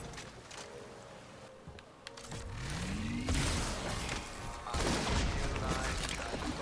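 Rocket launcher in Halo 2 Anniversary firing with a rising whoosh, followed by loud explosions and other gunfire in a busy, dense mix.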